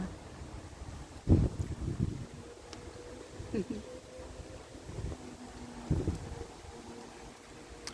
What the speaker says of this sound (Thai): ลมพัดแรงค่ะ